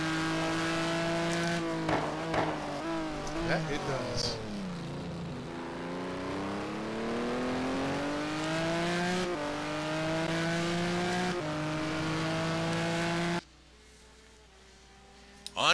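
A Maserati MC12 race car engine roars continuously at the Circuit of the Americas, revs climbing and dropping through gear shifts for over ten seconds, loud and close, before cutting out abruptly; a brief spoken reply occurs.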